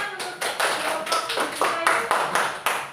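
A classroom group claps together in a brisk, rhythmic pattern, roughly a dozen distinct beats in quick succession, fairly close and clear with no talking over it.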